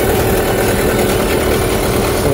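A 12 HP Hangkai outboard motor runs at a steady idle, loud and close, with a constant rumbling hum and no voices.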